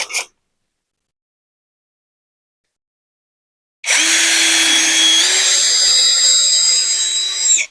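A cordless brushless lithium-battery electric drill with variable speed whirs loudly and steadily after a few seconds of silence, its motor pitch shifting slightly partway through the run.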